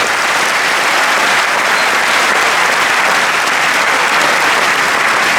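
Dense, loud applause from a ceremony hall fills the space for a prize-winning student at the Concours Général awards, steady and unbroken without speech.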